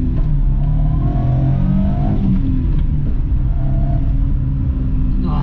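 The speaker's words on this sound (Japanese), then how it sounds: "高回転型のエンジンですね。 ちょっと加速していきたいと思います。" A Suzuki Jimny JA11's small, high-revving engine revs and accelerates steadily toward a 7000 rpm redline, a loud continuous rumble with rising pitch, close by and without any voices.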